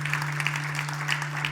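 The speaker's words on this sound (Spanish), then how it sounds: "Dele un fuerte aplauso en esta noche." A church congregation claps together in a steady, dense burst that sounds like applause, with a strong low hum running underneath throughout.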